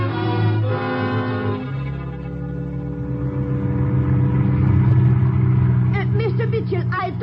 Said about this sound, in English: We get into the car and drive here to the edge of the city.